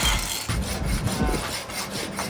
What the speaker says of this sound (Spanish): Esa la arenisca para pulir. Mira qué transparente del alabastro.